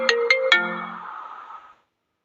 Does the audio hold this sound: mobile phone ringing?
yes